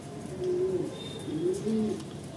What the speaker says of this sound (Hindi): कुछ कबूतर हमारे यहाँ बैठे हुए हैं।